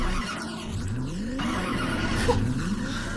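Synthetic car engine whine rising and falling with tire squeals from a car driving in a Roblox game, continuous and loud, like a racing game soundtrack.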